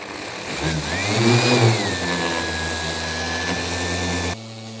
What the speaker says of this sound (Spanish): ahora ha llegado la hora de pasar al lijado